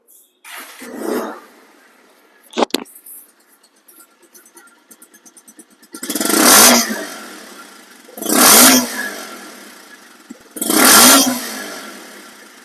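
Bajaj Pulsar ABS motorcycle, a three-month-old used bike, revved up close in three strong bursts spaced a couple of seconds apart, each rising and falling, after a short start-up and idle.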